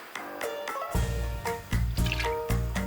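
Water poured into a pot for braised baby potatoes, a steady liquid splash and trickle that swells and bubbles in waves over a few seconds, close and moderately loud.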